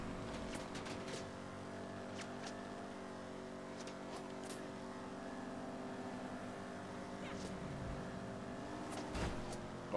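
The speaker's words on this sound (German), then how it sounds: "Ich fahre halt mit dem Dominator" A Dominator car in GTA V Online drones with a steady engine hum and layered tones, holding an even pitch with a couple of quick dips and faint clicks near the end.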